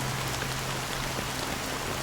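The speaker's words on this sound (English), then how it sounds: "How long has this rain been ongoing?" Rain falls steadily in the video game Honkai: Star Rail, a dense, even hiss of drops on surfaces without pause or voices.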